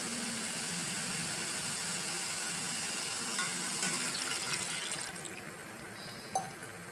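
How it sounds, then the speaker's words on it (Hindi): Water poured into a pot of browned chicken and potato curry, a continuous hissing splash that runs steadily for several seconds, then tapers off with a small clink near the end. "तो अब मैं इसमें डालने लगी हूँ पानी।"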